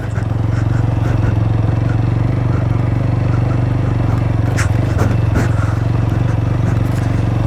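A motorcycle riding slowly over a rough, rocky dirt road, its engine drone constant and close, with scattered clattering and scraping knocks from the bumpy surface.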